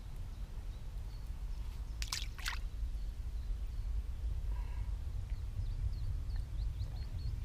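A ball of groundbait, a Dynamite Baits Sweet F1 mix, drops into shallow lake water at Claygate with a brief splash and some drips, then soft dribbling trickles against an outdoor background with faint birdsong.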